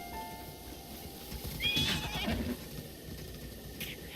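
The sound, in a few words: horses neighing in video game Breath of the Wild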